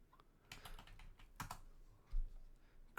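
Typing on a computer keyboard, with quick, soft key taps in irregular bursts, close but faint, heard alone with no talking.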